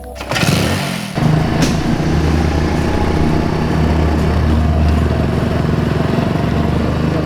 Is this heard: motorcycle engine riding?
yes